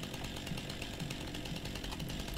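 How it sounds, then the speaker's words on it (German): Chainsaw from Farming Simulator 19, used for felling trees on the Sosnovka map, running steadily at high revs, loud and buzzing throughout with a constant rattling drone. "Kettensäger raus"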